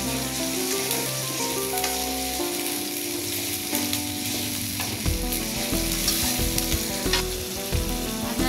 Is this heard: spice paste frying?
yes